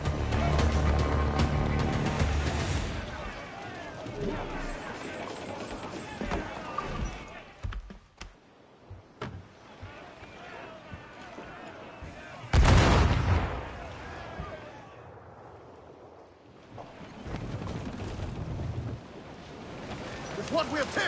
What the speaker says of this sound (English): Let's destroy everybody with a swivel gun.